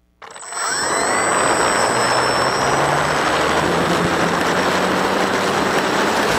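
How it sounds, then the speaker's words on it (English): A model aircraft engine starts abruptly and then holds a loud, steady buzzing drone as the plane taxis out for takeoff, with a faint whine rising and falling above it, no voices. "you might lead with the audio of a model aircraft taxiing out for takeoff"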